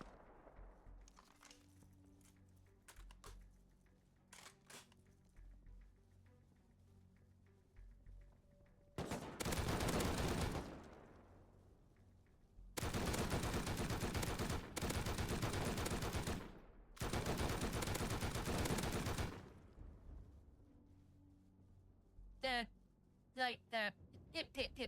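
Rust raid at night with bursts of automatic turret gunfire: long, loud sustained volleys separated by short gaps, plus scattered single sharp shots before and after.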